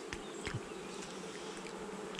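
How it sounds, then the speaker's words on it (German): Honeybees buzz steadily at a hive, a close, continuous insect hum with a few brief louder passes of individual bees, heard alone without talk. "Danke, liebe Bienen."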